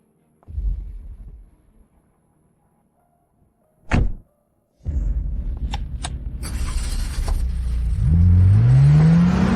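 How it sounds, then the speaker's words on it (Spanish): A car door thunks shut, then the engine starts and the car pulls away, its revving rising and growing louder toward the end. "Señor Chen, por favor, suba al coche."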